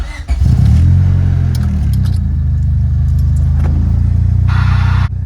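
A Honda Civic engine idles steadily while warming up in a garage, a loud, close, continuous low rumble with a brief hiss rising near the end before a short dip.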